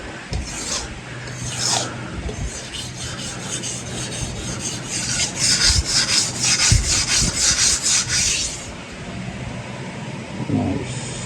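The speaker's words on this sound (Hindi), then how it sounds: "बात है भाई रगड़ने की छुरी को।" A knife blade rubbed back and forth against an Indian sharpening stone, giving a steady scraping rasp that builds into a quick series of rhythmic strokes, close and fairly loud, with no talk over it.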